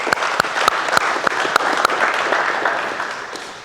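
A group of people clapping for a player after a basketball defence drill, steady fast rhythmic applause, loud and close, with no talk.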